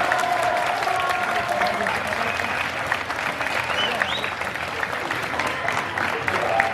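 Audience applause fills the hall at the Lyon Esport 2019 gaming event, a steady dense clapping throughout with crowd murmur and a voice faintly audible underneath.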